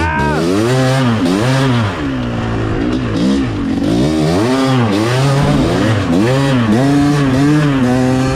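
A KTM 350 dirt bike ridden along a trail, its engine buzzing loud and near in repeated rising and falling revs as the throttle is worked on and off, with no voices over it.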